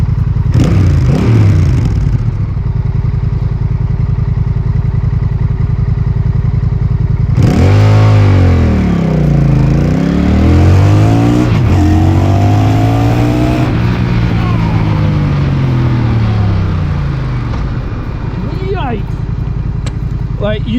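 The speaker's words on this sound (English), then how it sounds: "Clutchless gear changes on the Honda 1100 Rebel." A Honda Rebel 1100 motorcycle accelerates hard through clutchless gear changes, its engine note sweeping up and dropping sharply at each shift several times in a row, loud and close, with wind rush throughout.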